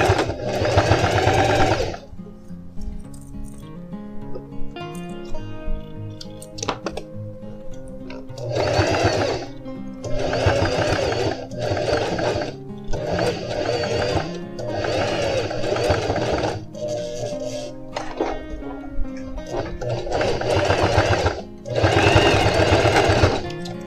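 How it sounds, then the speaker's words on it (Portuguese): Sewing machine stitching a side seam on jeans, running in repeated close bursts of rapid mechanical whirring separated by short pauses, with quiet handling sounds between runs. "E agora eu vou bater o pesponto aqui de fora."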